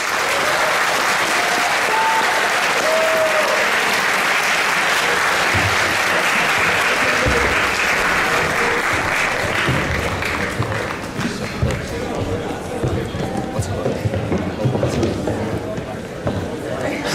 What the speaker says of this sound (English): one more big round of applause for your Inspire Award runner-up, 7390 MSET Jellyfish